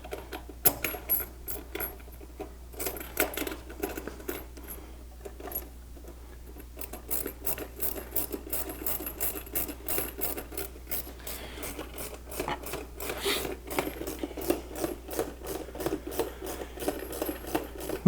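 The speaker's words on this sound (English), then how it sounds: "You're gonna have to use the wrench. Just do the outsides." Wrench tightening bolts while building a Consew 206 RB5 sewing machine table: a continuous run of close, scraping, clicking metal-on-metal turns and rasps over a low steady hum, fairly even throughout without talk.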